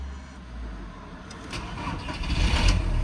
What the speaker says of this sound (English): now I'm just gonna try and start the car, see what happens.